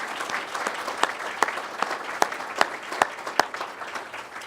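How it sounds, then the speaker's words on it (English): Audience applause at a county budget address, a fairly quiet, even wash of clapping from a room of people with several sharper individual claps standing out near the listener. "let's give him another round of applause."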